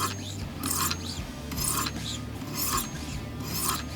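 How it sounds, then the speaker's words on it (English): A straight razor is stroked edge-leading along the stones of a Wicked Edge sharpener, making close, rhythmic rasping scrapes, roughly one every half second or so, each a bright gritty swish with short pauses between. "we're going to use our edge leading motion. And we'll do about 10 strokes of that until we create a burr"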